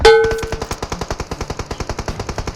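Automatic gunfire in the battle-royale mobile game PUBG Mobile: a rapid, steady burst of about twenty evenly spaced shots, loud and close, following a metallic ring at the start, with no voices.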